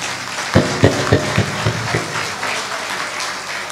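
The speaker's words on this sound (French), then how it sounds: "Est-ce qu'on peut l'acclamer" A church congregation applauding and cheering to acclaim Jesus, a rhythmic run of loud claps at first that settles into sustained, dense applause, alone and close.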